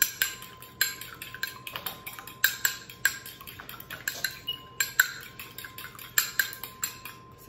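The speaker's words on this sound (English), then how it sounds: "beat the eggs a little bit so that get well incorporated" A fork clinks rapidly against a bowl while beating eggs into a raw meatloaf mixture, a steady run of sharp metallic taps close by with no talking.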